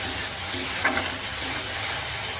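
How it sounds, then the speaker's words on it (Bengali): Spice masala with cumin powder stir-fried in oil for a potato curry, a steady close sizzle with a brief scrape of the spoon partway through. "দিয়ে মশলাটাকে ভালোভাবে কষিয়ে নিতে হবে"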